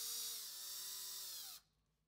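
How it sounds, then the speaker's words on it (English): A power drill whines steadily at high speed for about a second and a half, its pitch sagging slightly as it bores a pilot hole for a lock latch screw, then cuts off abruptly. "Drill pilot holes in each of the screw locations."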